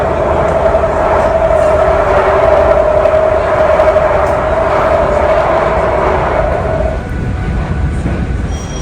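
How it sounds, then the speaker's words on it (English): An elevated train rides toward a bridge with a loud, continuous rumbling roar and a sustained mid-pitched whine that fades out near the end while the rolling noise carries on, with no talking. "So the speed line is a combination of an elevated train and a subway, sort of."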